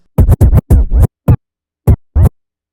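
DJ turntable scratches cut with a crossfader, six short, sharp bursts in a quick rhythmic pattern with brief silences between, loud and close.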